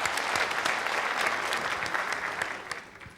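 Studio audience applause sending off a guest on the Popstar TV show, a dense, continuous roar of clapping at steady volume from start to finish, with no talking over it.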